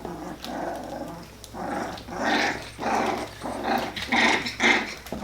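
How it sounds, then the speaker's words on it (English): Four-week-old Aussiedoodle puppies growl and snarl in short rising bursts, with little yips mixed in, close by and lively as they wrestle. "Puppies start to wrestle. They start to growl at each other."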